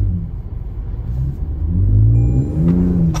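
A Toyota Tundra pickup truck pulls away under throttle, its engine rumbling low and then rising in pitch as it accelerates, loud and close with no talk.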